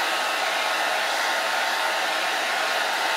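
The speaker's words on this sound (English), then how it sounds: "put your blow dryer down on cool and start off with low" Hair dryer set to cool on low, blowing steadily over freshly painted craft work: a continuous broadband whoosh, close and even throughout, with no voices.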